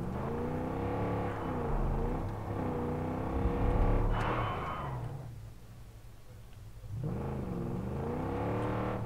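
Car engine in the video game Far Cry 5 revs up and down in smooth rising and falling sweeps, loud and steady, easing off briefly before climbing again, with no talk over it.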